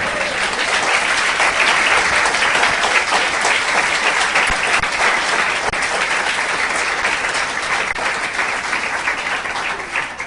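A church congregation gives a long, dense round of applause that holds steady for about ten seconds and tapers slightly near the end.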